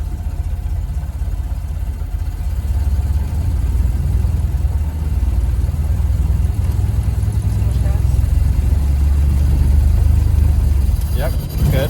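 A Model A Ford's engine pulls away from a stop, its low, steady rumble swelling after a few seconds, with people talking over it inside the car.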